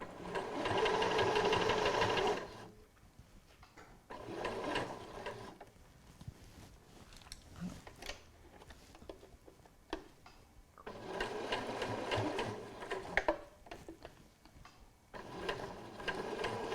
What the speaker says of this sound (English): And then I can continue sewing.